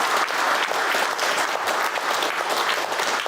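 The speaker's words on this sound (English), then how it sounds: "can we have a round of applause for our panel?" An audience applauds the panel at an engineering event in Leeds, a full, continuous round of clapping from many people that holds steady throughout.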